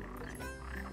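Frogs croak in a Final Fantasy XV game scene, a steady low rumbling chorus running through the whole second at moderate level with no talk over it.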